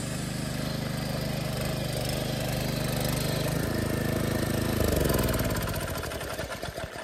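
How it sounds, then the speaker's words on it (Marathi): A tractor working a Konkan rice paddy runs close by with a loud, steady engine drone, then shifts and winds down as it is being shut off. "ट्रॅक्टर आता आपण स्टॉप"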